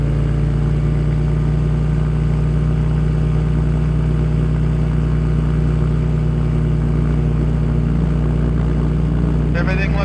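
A small aircraft's engine runs loud and steady close by during a taxi test of a steerable nose wheel, a constant heavy drone throughout with a slight rise in intensity near the end.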